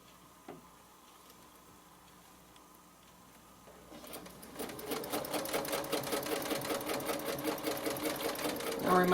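A sewing machine stitches a pillow design, starting after a few quiet seconds and then running in a fast, even, rhythmic clatter close by.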